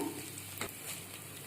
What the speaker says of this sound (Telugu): తాలింపు గింజలు వేసుకుంటున్నాము